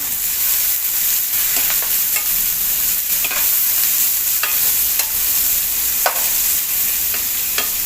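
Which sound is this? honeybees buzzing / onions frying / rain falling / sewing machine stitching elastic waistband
onions frying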